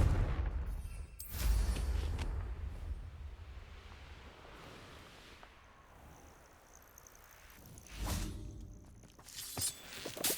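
A Confringo fire spell cast in Hogwarts Legacy bursts out in sharp, crackling blasts near the start and again toward the end, with a quieter rumbling stretch of game ambience between.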